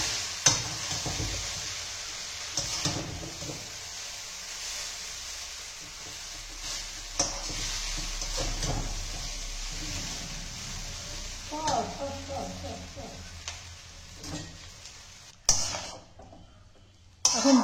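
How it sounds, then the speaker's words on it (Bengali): Hakka noodles with scrambled egg are tossed in a pan, with sizzling and intermittent spatula scrapes that rise and fall while a person talks over them. "এখন ডিমের ভুজিয়াগুলো দিয়ে নাড়াচাড়া করে নিচ্ছে"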